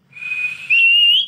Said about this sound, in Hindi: सीटी किसको मार रहे हो तुम, किसको? फिर से मारो।